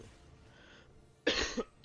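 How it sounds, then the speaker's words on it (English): A short, close cough of two or three quick bursts breaks through quiet room tone after a near-silent stretch. "Cough."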